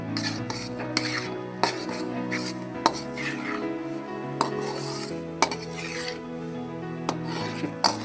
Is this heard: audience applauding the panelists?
no